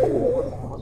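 A Kuwaiti teddy pigeon coos close by, one sustained throaty hum for about half a second that trails off into quieter room noise.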